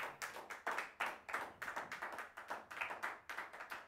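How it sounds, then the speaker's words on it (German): Small live concert crowd at Cafe Museum in Passau claps in quick, distinct handclaps, a light, fairly sparse patter that stays even and fairly close throughout. "Schönen Applaus zu hören."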